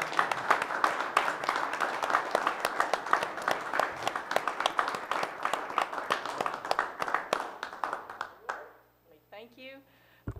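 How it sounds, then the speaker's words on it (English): Audience applause at a county commissioners meeting, a dense run of clapping for about eight seconds that fades out, followed by a voice speaking. "I think we should give a round of applause"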